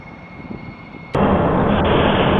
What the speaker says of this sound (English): X-59 control is go for takeoff.